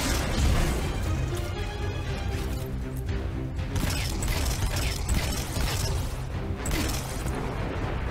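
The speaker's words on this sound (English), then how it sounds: "Two explosions." Weapon explosions in the Destiny 2 shooter game pile into a dense, continuous wash of bursts and crashes, loud and close, with no voices over them.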